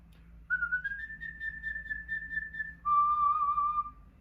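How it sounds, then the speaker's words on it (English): A whistler performs a passage of the Queen of the Night's aria as written on the score, for a whistling competition: clear, sustained high notes that step up and later drop, solo and close, with no talk. "if you're whistling a classical piece, you have to whistle as it's written on the score. So, for example, Queen of the Night's aria."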